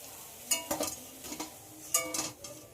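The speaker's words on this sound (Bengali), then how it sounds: "এবার এই সাইডটাও খুব ভালোভাবে ভেজে নেব" Bora fritters fry in hot oil, a soft sizzle broken by a few sharp clinks and scrapes as they are turned in the pan, fairly quiet and close.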